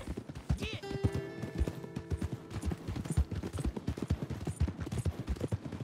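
Hooves of a horse trotting in Red Dead Redemption II, a steady rhythmic clip-clop running the whole time with a brief whinny and faint background game sounds, fairly quiet.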